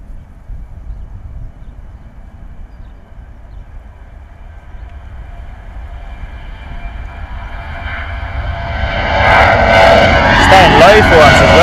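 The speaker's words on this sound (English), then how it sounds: "Here we go, Jet2 coming at us." A Jet2 airliner in holiday livery on approach to Bristol Airport, its rumble building from a distant low drone to a louder roar as it nears, with faint talk over it.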